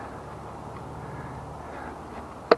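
A single sharp stick snaps underfoot in a forest near a creek, one brief crack at the end following low, steady outdoor rumble.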